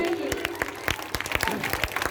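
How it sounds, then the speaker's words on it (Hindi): Audience at a speech event giving a round of applause, sparse and uneven clapping heard at moderate distance, fairly faint, with a little background talk. "जोरदार ताली आप लोग बजाइए"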